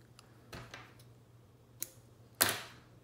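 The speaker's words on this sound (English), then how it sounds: "Now we're gonna cut the green," Scissors snip through green wrap a few times, with three or four short, crisp cuts at uneven intervals, the last one the sharpest and loudest, close and quiet over a low background hum.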